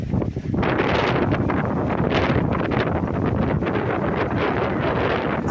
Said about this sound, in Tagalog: Medyo malakas ang hangin ng konti ngayon